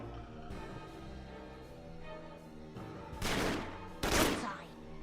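Gunfire in a video game shootout against drug smugglers: two loud bursts of shots ring out late over a continuous musical score, with a voice faintly present underneath.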